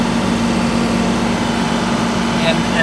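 A John Deere 2038R compact tractor engine runs a forced regen at a raised 2200 RPM, producing a loud, steady droning hum throughout.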